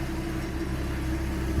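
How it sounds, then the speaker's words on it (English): Idling 240 cubic inch inline six-cylinder engine in a 1967 Ford F-100 pickup, a steady low rumble with an even throb, close and continuous. "there's that 240 cubic inch inline 6-cylinder, purring like a kitten"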